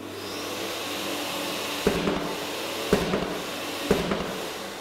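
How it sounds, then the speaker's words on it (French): Dust-extraction vacuum running during drywall sanding, a steady close whir with three sharp periodic thumps or pulses over it, no talking. "Je vous recommande également l'emploi d'un aspirateur à décolmatage afin d'optimiser l'aspiration."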